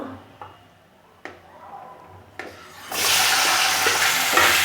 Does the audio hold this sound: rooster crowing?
no